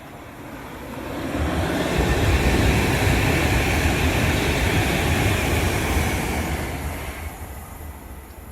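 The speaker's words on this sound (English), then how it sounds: "A Pendolino now whizzing past" A Pendolino train whizzes past on the West Coast Main Line at Lichfield Trent Valley, a rushing roar that swells from quiet to a loud sustained peak and then fades away, with no voices over it.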